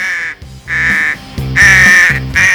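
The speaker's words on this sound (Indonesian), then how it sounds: "gagak berwarna hitam pekat dan suaranya yang serak dan parau terdengar mengerikan" A crow caws several times, harsh and hoarse calls in a loose rhythm, loud and close with brief gaps between them.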